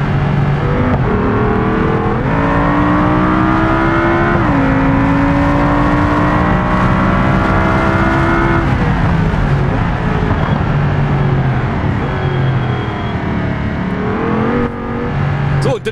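Engine of the facelifted ETK car in BeamNG driving with automatic gearbox, a steady loud drone with harmonic pitch rising and settling through upshifts, racecar-like, no talk.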